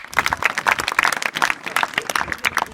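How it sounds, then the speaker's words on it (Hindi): Schoolgirls in a classroom at a girls' inter college clap together, a loud, lively burst of many hands beating fast and unevenly, close by and without speech. "अरे बहुत बढ़िया, ताली बजाओ सबके लिए।"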